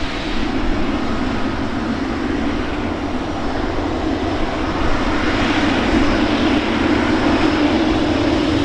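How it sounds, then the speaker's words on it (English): A Qatar Airways Airbus A350-1000 jet roars steadily and loudly at an airport, a continuous broadband engine rumble with no letup for the whole stretch. "This here is an Airbus A350-1000 belonging to Qatar Airways."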